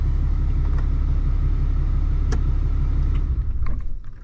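Idle of a Dodge Ram engine, a steady low rumble that cuts out near the end as the truck shuts off, followed by faint clicks.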